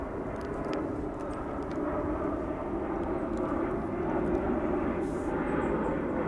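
An aircraft passes overhead on a flight path above a fishing spot, its steady low engine roar filling the whole stretch loudly and swelling slightly toward the end.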